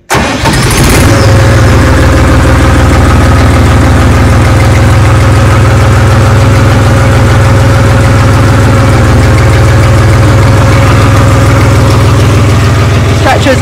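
A Siromer 304 diesel tractor fitted with a flail mower cranks and catches, then settles into a loud, steady low rumbling idle that continues throughout.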